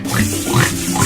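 A pig from a farm animals learning game gives a short series of loud, close grunting oinks, with no voices over them.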